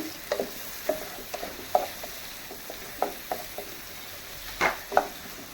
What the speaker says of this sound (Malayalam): ഇതിലേക്ക് തക്കാളി ഇട്ട് കൊടുക്കാം. നന്നായി മിക്സ് ചെയ്തിട്ട്